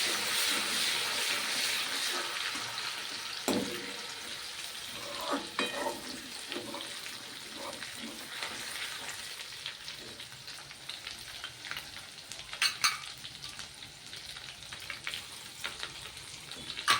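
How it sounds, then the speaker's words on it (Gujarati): Crushed ginger, green chili and garlic sizzling in hot oil with asafoetida, a steady close frying hiss with occasional stirring scrapes and spatters throughout. "ત્યારબાદ 1 ચમચી આદુ, મરચાં અને લસણ ખાંડેલા છે તે એડ કરશું."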